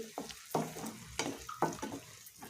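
Onions with salt fry in a pan over low to medium flame, soft sizzling broken by several distinct stirring scrapes and taps of a spoon, close and fairly quiet.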